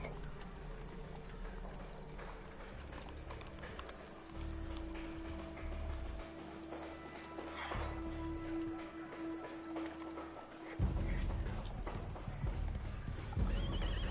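Horses neigh loudly while hooves clatter in a quick galloping rhythm in a Sherlock Holmes video game on PS4, with a rumbling, chaotic background of movement and impacts as a horse falls onto a stage.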